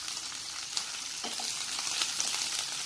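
Chopped onions frying in a pan over a high flame, giving a steady close hiss and sizzle with faint stirring scrapes throughout.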